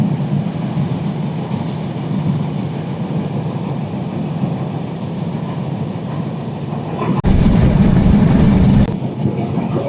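Sundarban Express passenger train runs steadily on the Dhaka–Faridpur line near the Mawa expressway, a continuous loud rumble with faint clickety-clack from inside the carriage, briefly swelling louder near the end.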